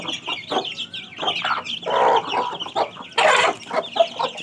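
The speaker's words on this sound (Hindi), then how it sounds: "ये जो मुर्गी है ना बड़ी शातिर है" Hens and a rooster at a rural home clucking and squabbling over morning feed, a close, busy run of overlapping clucks and squawks with a louder burst near the end.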